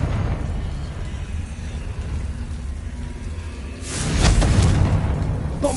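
Confringo fire spell from a Harry Potter video game erupts about two-thirds of the way through as a loud, broad blast with a rumbling tail, after a stretch of low background rumble.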